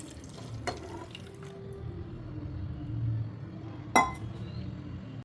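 A cup of milk poured into a pan for a milk, sugar and cornflour dessert, heard as a soft steady liquid flow with a couple of light clinks, close by and without talk.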